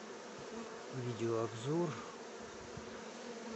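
Bees buzzing in flight at an apiary in Leningrad Oblast in August, a steady insect drone with a brief louder swell as one passes close by, against faint background noise.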